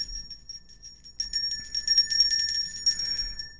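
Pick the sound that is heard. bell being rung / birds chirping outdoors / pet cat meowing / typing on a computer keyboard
bell being rung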